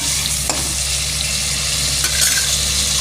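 Onion, tomato and a green chili sauté in a pan for brinjal rice, giving a loud, steady sizzle with a couple of sharp utensil taps against the pan.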